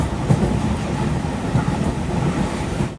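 Garib Rath Express on the Ranchi to New Delhi route rolling into Muri junction, a steady low rumble of wheels and carriages that stays loud and even throughout, with no voices.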